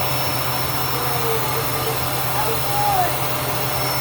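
A full-size household vacuum cleaner runs steadily close by with a constant droning whine, the main sound throughout. A child's and an adult's voices come through faintly under it.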